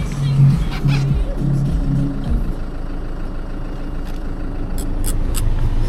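Car engine idling steadily after a keyless start, a low continuous rumble close by, with someone talking over it at the start and a few faint clicks later.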